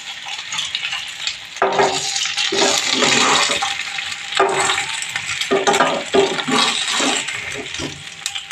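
Ingredients for Gujarati dhokla being lightly fried in a pan, a steady broadband sizzle broken by repeated scraping stirs, close and fairly loud with no voices.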